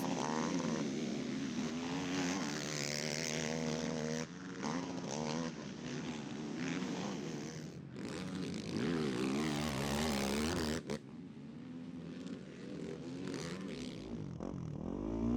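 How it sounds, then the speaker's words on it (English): A revving ATV engine at a motocross race snarls and shifts pitch, with abrupt drops and surges as the rider dumps the clutch approaching a corner, mixed with crowd and track noise. "you hear Ford just dumping the clutch. Setting up for that corner"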